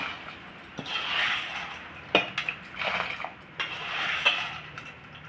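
Washed jowar grains are poured into a pot of boiling water, a close rattling and splashing with a few clinks against the metal pot, coming in short bursts.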